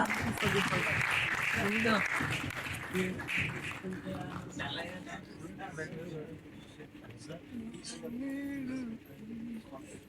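Audience applause at an Odia film release event on a stage, a dense burst of clapping that fades over the clip while an announcer's amplified voice talks over it.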